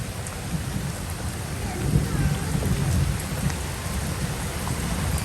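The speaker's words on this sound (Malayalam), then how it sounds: "നല്ല കിടിലം മഴയാണ് കേട്ടോ ഒരു രക്ഷയില്ലാത്ത മഴയാണ്" Heavy rain pours steadily and densely, a constant close roar of drops with a low rumble underneath.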